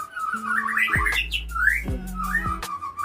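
A white-rumped shama (murai batu) fledgling gives thin, rising whistled calls in short bursts, close and fairly clear over a low background hum and sweeping tones.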